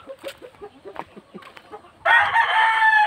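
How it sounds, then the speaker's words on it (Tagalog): A rooster crows loudly and close by among breeder chickens, a single long sustained call that follows a stretch of softer clucking and scattered bird calls from the flock. "marami tayong manok dito"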